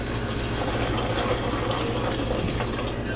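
Hot water pours slowly through a funnel into a plastic laundry detergent bottle while homemade laundry soap is made, a steady close gushing trickle that continues without pause or speech.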